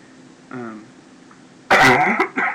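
A single harsh cough, close and loud, after a quiet stretch with a faint throat noise, followed by a brief second hack.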